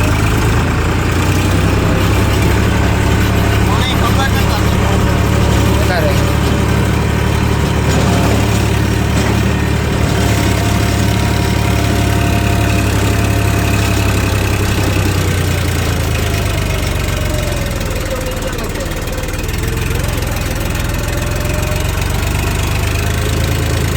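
A Farmtrac 47 Promax tractor diesel engine runs steadily and close, a loud low knocking rumble that holds for the whole stretch with only slight dips in load, no voices over it.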